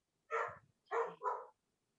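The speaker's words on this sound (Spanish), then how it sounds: "Perdón por mi perro." A pet dog barks indoors nearby, one bark followed by a quick double bark, loud and alone against silence.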